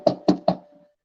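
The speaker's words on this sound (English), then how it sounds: "she knocks on the front door" Three firm knocks on a front door of a house, evenly spaced and close, then silence.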